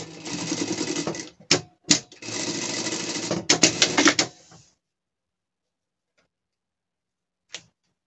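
A sewing machine stitches a hem on a gaucho-style pet costume in two loud steady runs of rapid stitching, separated by sharp clunks, then falls silent apart from one last click.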